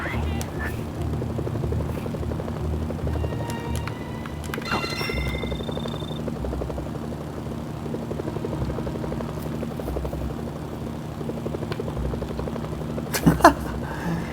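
A helicopter in the Mercenaries: Playground of Destruction video game thrums with steady rotor chopping throughout, a constant rhythmic drone with a few brief game effects layered on top.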